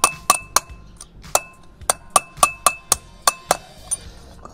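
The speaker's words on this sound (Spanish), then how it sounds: "Son golpes ligeros" Light hammer taps seat a wheel bearing race on a Volkswagen Combi front hub, giving about a dozen crisp, ringing metallic clinks at an uneven pace, close and clear against a quiet background.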